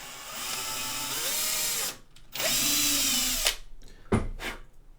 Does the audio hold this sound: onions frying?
no